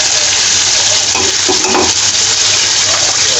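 Chicken and chopped onion sizzle steadily in a hot pan over high heat, a continuous close, loud frying hiss with occasional stirring scrapes and no talking.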